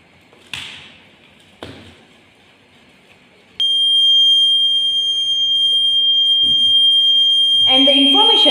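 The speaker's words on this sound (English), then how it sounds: "a buzzer will make sound." A school science project intruder alarm for a national park entrance sounds its buzzer: a loud, continuous high-pitched electronic tone that starts abruptly after a couple of short knocks and holds steady, with voices briefly over it near the end.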